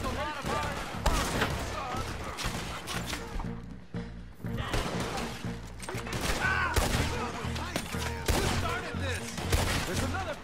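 Gunfight in Red Dead Redemption 2 against soldiers: dense, repeated rifle and pistol shots crack throughout, with shouting voices mixed into the battle.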